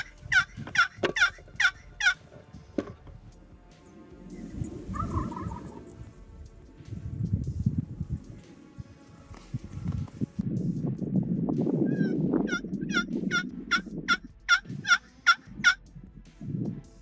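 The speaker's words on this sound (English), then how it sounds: "the gobbles were now much louder and we could tell the bird was coming closer" Wild turkeys gobbling in Oregon timber, clear repeated rattling gobbles in bursts at the start and again near the end, with rustling footsteps and movement in between.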